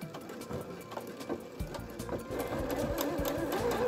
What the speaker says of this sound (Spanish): Bajaremos la agujita entonces y comenzaremos a coser.